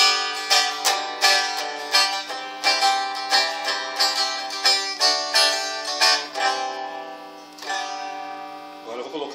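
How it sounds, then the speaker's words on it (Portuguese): An unplugged Cortez semi-acoustic hollow-body guitar is picked in a quick run of bright, fairly quiet notes with a thin, boxy tone, slowing and trailing off near the end. "Então esse aqui é o som do violão semiacústico."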